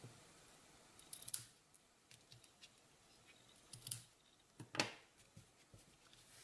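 Scissors snip the ribbon ends after a bow is tied on a handmade Christmas gift-card holder, giving a few short, quiet, crisp cuts spaced apart in a hushed room.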